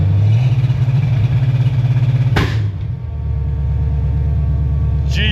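A 351-swapped Foxbody Mustang engine holding a loud, fast-pulsing rev on launch control before an abrupt sharp pop, then settling into a lower, steady rumbling idle.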